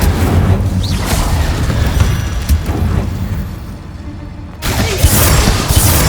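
Incendio and Confringo spell blasts in Hogwarts Legacy, a run of loud booming bursts with crackling, shattering edges, a brief lull near the middle before the blasts resume.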